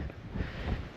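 Steady, loud wind buffeting the microphone outdoors on a mountain peak in Madeira, a broad low rumbling roar with gusts that swell and fade throughout.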